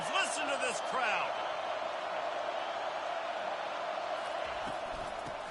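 A steady roar from a dense stadium crowd fills a college football video game between Iowa State and Iowa, with rising cheers and whoops over a constant wash of noise and a commentator's voice.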